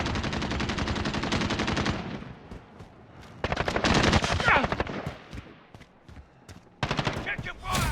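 Automatic gunfire in the shooter game Modern Warfare 2019, with an MP7 build in use, comes in loud rapid bursts separated by quieter gaps, close and sharp, with in-game radio voices in the background.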